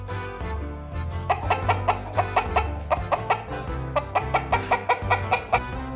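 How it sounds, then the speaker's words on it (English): A hen clucking in a farm animal sound game, a series of quick, close, rhythmic clucks in two bursts over a low steady background; no talking. "Is that a hen?"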